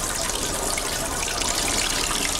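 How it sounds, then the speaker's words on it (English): Tap water runs steadily over a bottle being cooled, a continuous close hiss and splash with no talking. "Tom, cool the bottle under the tap and get a penny ready."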